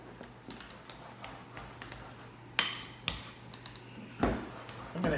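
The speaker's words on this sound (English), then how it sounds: "And then stir with a spoon." A spoon scrapes and clinks against a bowl while stirring icing sugar and milk into a chocolate frosting for brownies, giving a few sharp, close knocks among softer scraping in a quiet kitchen.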